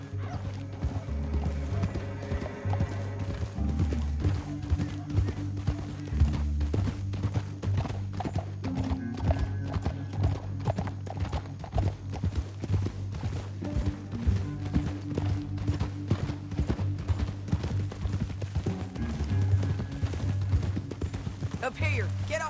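Horse hooves gallop in rapid, steady rhythm across a canyon in Red Dead Redemption 2, close and continuous for the whole stretch, with a tonal musical score underneath and occasional whinnies.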